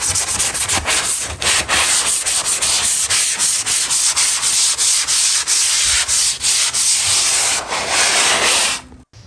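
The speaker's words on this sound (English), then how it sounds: "I'm sanding that joint compound right now." Steady, rhythmic scraping of a sanding block rubbing across joint compound on a wall, close and loud, continuing for several seconds before stopping.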